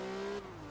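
A Porsche tearing through a corner in Forza Horizon 3 gives a steady high engine whine that drops in pitch as it eases off, brief and fairly close, with no talk.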